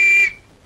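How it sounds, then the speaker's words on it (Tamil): A single shrill police whistle blast, loud and steady for about a quarter second before cutting off abruptly into near silence, in a comic scene with a constable. "அப்புறம் ஏன் விசில் ஊதுற?"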